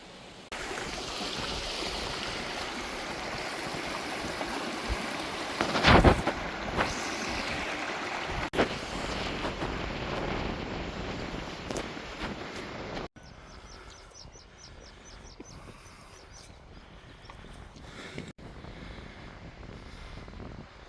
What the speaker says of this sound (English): I don't know if you can hear me because of the wind. It keeps gusting and stuff.